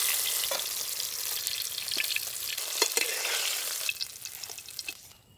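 Brinjal pieces frying in hot oil in a pan for a dry fish brinjal thokku: a steady, close, crackling sizzle with occasional scraping stir sounds, fading near the end.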